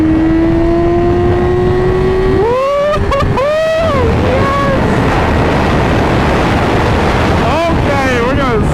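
A 2017 Yamaha R6 motorcycle engine screams up to high revs, a rising whine that climbs and drops through several sharp rev swings, loud over heavy wind roar.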